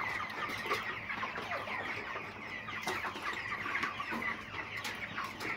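Domestic chickens cluck and call steadily on a Nigerian moringa farm, a busy flock close by with a constant background hum and no talking.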